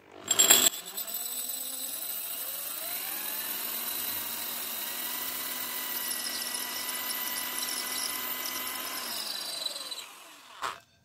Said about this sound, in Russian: Немножечко освежаем и продолжаем сверлить.